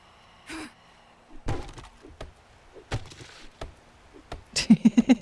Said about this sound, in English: Immediately start digging my way outside.